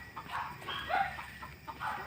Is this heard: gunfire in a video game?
no